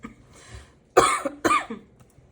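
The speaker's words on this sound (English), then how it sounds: "I don't know why I'm coughing" A short series of coughs up close, a faint first one followed by two louder harsh bursts, with no speech.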